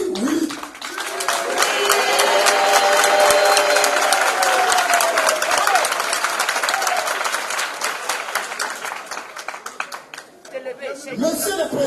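A gathered assembly of pastors bursts into loud, sustained applause and cheering to acclaim a motion, dense clapping with crowd voices and chatter mixed in, tapering briefly near the end before picking up again.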